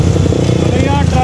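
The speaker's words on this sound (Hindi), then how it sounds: "बहुत ही मजे का साउंड आ रहा है।" A Super Star 200 motorcycle's exhaust with a slightly loose nut, running at a steady low, throaty idle close to the microphone throughout, with no clear revving.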